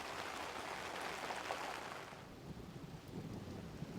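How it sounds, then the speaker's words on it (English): Rumbling thunder rolls through a heavy rainstorm, with steady rain drumming close by on an umbrella held over the microphone and a low, broad roar that eases slightly partway through. "That's thunder."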